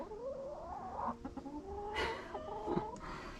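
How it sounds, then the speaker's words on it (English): Hens cluck and fuss in short, uneven bursts, with a few rising squawks, close by over a steady background hum. "The chickens are fussing a little bit."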